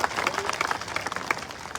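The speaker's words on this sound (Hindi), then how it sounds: "जोरदार ताली बजा करके इन साथियों का स्वागत करिए।" A crowd at a political party event applauds to welcome new members joining, a dense, steady burst of clapping from many hands, fairly near and continuous throughout.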